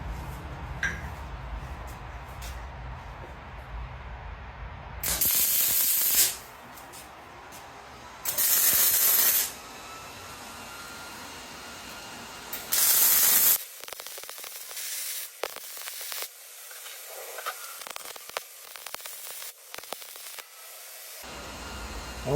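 Steel pipe handrail being welded gives three short bursts of harsh crackling hiss, each lasting one to two seconds and separated by quieter pauses, followed by faint workshop noise.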